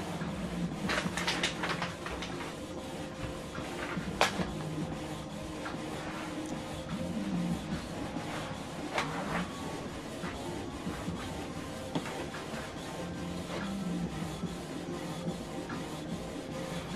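A Canon PIXMA TS8350 inkjet printer aligning its cartridges whirs and rasps steadily, with repeated sliding carriage movements and occasional sharp clicks over a constant mechanical hum.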